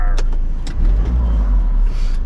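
A V8-engined Ford Transit van pulling away, its engine rumbling low and loud from close by inside the cabin in a brief burst.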